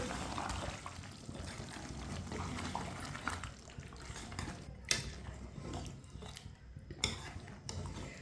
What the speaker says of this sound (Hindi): दही को मिक्स कर लेंगे।